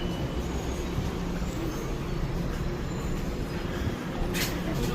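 A train in New York rolls along with a steady, loud rumble and broadband rattle throughout, heard from inside the carriage with no talk.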